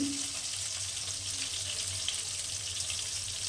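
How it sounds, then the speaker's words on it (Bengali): Ghee heating in white oil in a kadai, a steady close sizzle that runs evenly throughout over a low background hum, with no talking. "তো দু চামচের মতন ঘি দিয়ে দিলাম একটু গরম হবে"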